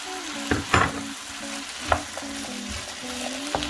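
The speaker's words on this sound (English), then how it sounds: "Give it a good mix so it's all coated in properly." Chickpeas being mixed into a chana masala of cubed tomatoes and spices in a hot pan, with a light sizzle and a few distinct scrapes and knocks of a spoon over a few seconds, close by, no talking.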